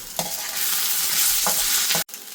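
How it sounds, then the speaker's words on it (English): Peppers frying in a traditional Balti bowl for a Birmingham balti, loud continuous sizzling with a few spoon stirs and scrapes, ending in a sudden metallic knock, no talking. "I'm just going to stir that around once and just leave the peppers soften."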